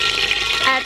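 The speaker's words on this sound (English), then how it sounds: "Add soybean oil." Soybean oil poured into a cooking pan, a continuous liquid splashing and hiss heard up close and fairly loud, with no talking.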